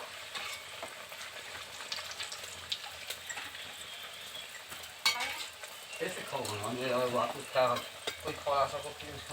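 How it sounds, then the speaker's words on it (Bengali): Banana-flower cutlets frying in hot oil, a soft sizzle that swells into louder bubbling crackle in the second half, with a few clinks and brief indistinct sounds. "এখন এগুলোকে তেলের মধ্যে একটা একটা করে ছেড়ে দেব। লাল করে ভেজে নেব।"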